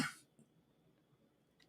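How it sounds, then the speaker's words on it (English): A single sharp cough right at the start, then near silence with faint room noise. "the cough just comes up, and no warning"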